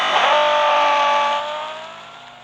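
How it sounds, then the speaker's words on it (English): A 2012 Ferrari FF engine in the racing game Real Racing 3 holds a loud, steady high-revving drone, its pitch dipping slightly as the sound eases off toward the end, with no voices. "Up next is my 2012 Ferrari FF."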